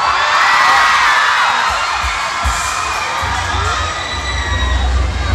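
A crowd of children shouts and cheers loudly and continuously at an outdoor Children's Day event in Buriram, a dense roar of young voices with whoops rising over it.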